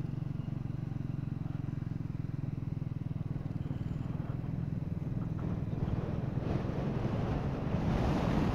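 Strong wind roars steadily over a motorcycle being ridden at about 15,000 feet on the road to Gurudongmar Lake in North Sikkim, a loud continuous buffeting rush with engine rumble beneath that builds toward the end.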